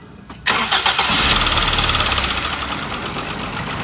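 A Toyota GLi car engine with a faulty sound cranks and catches after a brief moment, then settles into a loud, rough idle with a steady knocking pulse and no voices.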